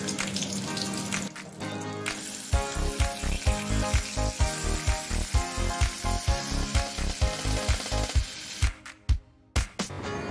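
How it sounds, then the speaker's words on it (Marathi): Finely chopped onion dropped into hot oil in a pan for a dry aubergine and potato dish, bursting into a loud crackling sizzle with rapid sputtering pops close by, no voices. "तर कांदा टाकून घेते मी।"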